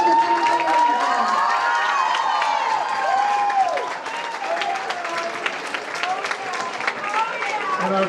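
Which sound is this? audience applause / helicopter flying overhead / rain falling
audience applause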